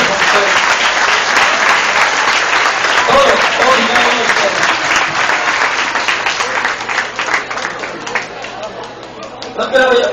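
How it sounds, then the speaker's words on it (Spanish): Sustained audience applause at a Mexican political gathering for a PRI deputy: dense, loud clapping from a large crowd filling the whole stretch, with a background voice faintly under it. "quiero pedirles un aplauso muy fuerte para todos ustedes"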